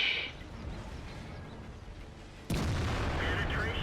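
A tank shell striking and penetrating armour in the video game World of Tanks: one sudden, loud, heavy impact that cuts in over steady rumbling battle noise and rings on without fading.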